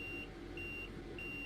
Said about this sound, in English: Right, what's that beeping noise? It must be the AWS.